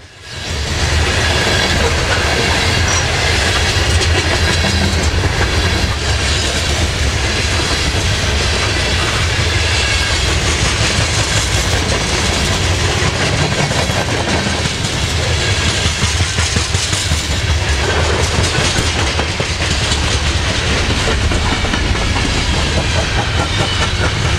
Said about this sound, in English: This is that grain train.